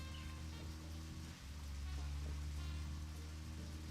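Steady rain falls in the video game Deadly Premonition, a constant hiss of drops drumming on a surface over a low, droning hum, even and unbroken.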